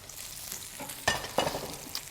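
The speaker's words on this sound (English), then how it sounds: "We're gonna let that just start to sear." Salmon sears in hot oil in a pan, giving a steady close sizzle with a few sharper crackles and spits, and no talking.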